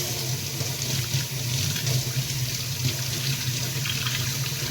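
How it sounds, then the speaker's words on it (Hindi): Tap water runs steadily over radish greens held beneath it, a continuous splashing stream at close range with a low hum underneath, no voices. "ये तकरीबन 30 सेकंड तक मैं पानी के नीचे रखती ही हूँ"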